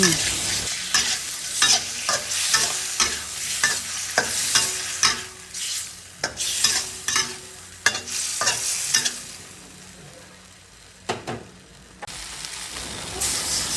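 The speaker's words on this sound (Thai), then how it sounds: "แล้วผัดทุกอย่างให้เข้ากัน" Chicken giblets and onion flowers stir-fried in a pan: a continuous sizzle with repeated scraping and clanking strokes of the spatula at a steady rhythm, close and fairly loud, fading toward quieter frying near the end.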